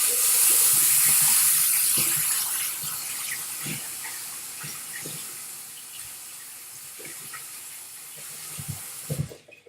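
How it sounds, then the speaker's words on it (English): Water runs from a tap into a sink for hand washing, a steady hissing stream that loudest at first then eases, with a few clatters and thumps near the end; no talk. "I was going to go quickly wash my hands"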